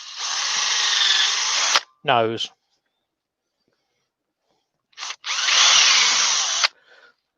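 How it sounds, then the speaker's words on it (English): A power drill bores into the centre of a wooden Christmas ornament in two loud, sustained bursts, with a short spoken word in the gap between them. "So I'll drill the centre of that."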